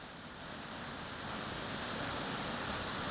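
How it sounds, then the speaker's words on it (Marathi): Heavy rain-swollen water of Kas lake dam pours over the spillway in a dense, constant rushing roar that builds slightly and carries on without pause. "तलावाच्या सांडव्यावरून पाणी वाहू लागल्याने"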